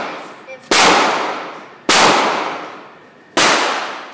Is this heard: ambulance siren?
no